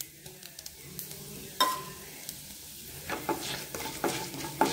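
Chana dal, urad dal and cumin crackle in hot oil, a soft continuous sizzle broken by sharp spoon-on-pan stirring knocks, strongest toward the end.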